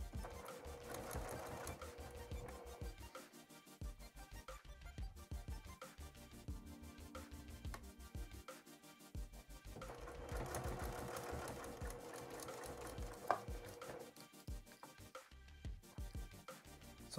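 A sewing machine runs steadily, stitching along the edge of a fabric postcard with a fast, even mechanical chatter, close and alone with no talking.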